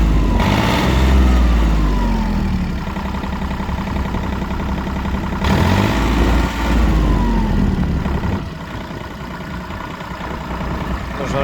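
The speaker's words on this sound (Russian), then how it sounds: "Вот непосредственно сам запуск трактора." An Iseki SIAL17 tractor's three-cylinder engine idles close by with a steady, even mechanical drone. Its pitch drifts slightly as the revs shift.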